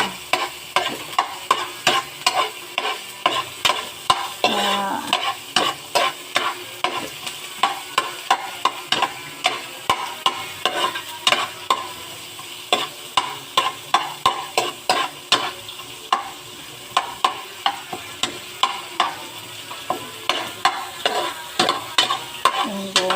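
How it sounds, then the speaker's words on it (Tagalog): String bean adobo with onion being stirred in a pan, with a steady, rhythmic run of close spatula scrapes and knocks over a constant bright sizzle lasting the whole stretch. "So haluin muna natin, papulayin ng konti."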